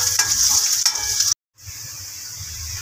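Onion sizzles steadily in hot oil in a pan, with a few scraping stirs, broken by a short silent gap before the frying hiss resumes evenly.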